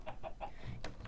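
Chickens in the Minecraft video game give three quick clucks in a row, then a brief flutter of sound, soft and low in level.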